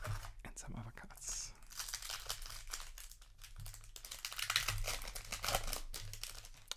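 A Yu-Gi-Oh Metal Raiders 25th Anniversary card pack being opened, with close, quiet crinkling and tearing foil wrapper sounds running throughout and a soft voice underneath.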